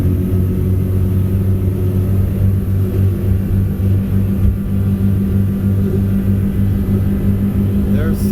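A 250 Defiance boat's outboard engine runs steadily at cruising speed, about 4,000 RPM, a loud, close, even drone with wind and water rush around it while someone talks over it.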